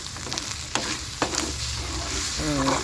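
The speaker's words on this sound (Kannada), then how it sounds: "ಇವಾಗ ಹುರಿದ್ಬಿಡೋಣ" Village-style egg bhurji fries in a pan, giving a constant close sizzle broken by a few scraping stirs of a spatula.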